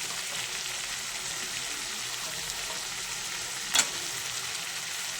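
Tomatoes fry in spiced oil with a soft, steady hiss and sizzle, constant and fairly quiet, broken by one brief sharp crackle near the end.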